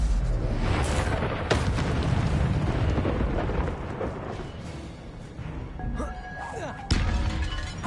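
Incendio fire spell cast during a fight with guards in Hogwarts Legacy on PS5: dense, roaring bursts of fiery blasts and booms filling the whole stretch, with sharp impacts near the start and end.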